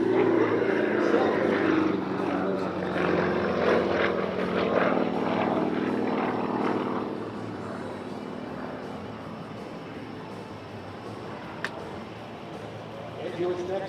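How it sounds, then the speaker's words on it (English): An aerobatic plane with a 400-horsepower radial engine performs at the 2024 Oregon International Air Show in McMinnville, its loud droning roar fading after several seconds while an announcer talks over it. "400 horsepower being generated by the C-double radial engine"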